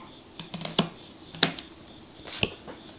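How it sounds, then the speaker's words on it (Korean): Tarot cards are turned over and laid down on a table during a reading, making a few light, crisp taps and soft slaps spaced irregularly over a quiet background. "그럼 이번에는 2번 카드 한번 펼쳐보도록 할게요."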